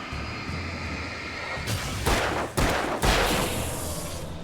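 Gunfire in the video game Alan Wake: a few heavy bursts of shots over a dense, steady game background, loud and close, with no talking.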